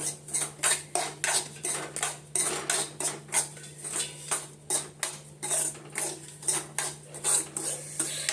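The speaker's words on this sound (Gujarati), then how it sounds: "જો અહીંયા આગળ શેકાઈ રહ્યો છે સોજી મારો, હજુ જસ્ટ હમણાં જ મૂક્યો છે." Semolina dry-roasting in a pan, stirred with a spatula that scrapes the metal in a steady rhythm of about two strokes a second over a constant low hum, with no talking.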